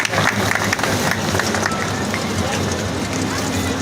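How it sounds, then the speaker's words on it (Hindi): Loud applause and crowd noise welcoming a Rajasthan government minister at a night-time village development meeting, a thick continuous wash of clapping and murmuring voices, with talk mixed in. "आप जोरदार तालियों से आप सबकी तरफ से"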